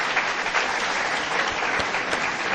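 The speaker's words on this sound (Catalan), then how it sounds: "Els aplaudiments suposo que volen dir que plegui." A crowd applauds continuously during a speech at a celebration event for a magazine's fiftieth issue. The clapping is dense and even, moderately loud, and no voice is heard over it.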